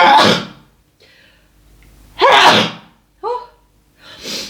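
A person sneezes loudly at the start, then there is a quieter stretch, a second explosive sneeze, and a brief vocal exclamation and breathy sounds after it, close to the microphone.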